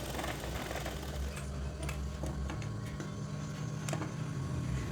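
A sewing machine stitching a shirt collar whirs steadily close by, with a low motor hum and a few light mechanical ticks running through it; there is no talking.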